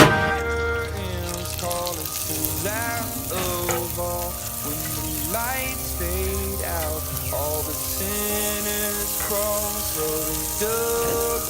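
Fish frying in butter in a pan, a steady sizzle running throughout beneath a layer of tonal music, loud and close.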